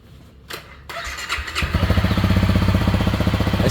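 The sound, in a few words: stock motorcycle engine starting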